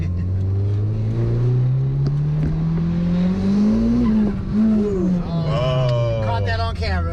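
A Mitsubishi DSM car accelerates hard from inside the cabin, its engine climbing steadily in pitch, dropping as it shifts gear, then climbing again. The engine is loud and close, and voices talk over it.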